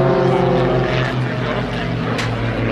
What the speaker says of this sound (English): a masterclass really of close formation pairs aerobatic display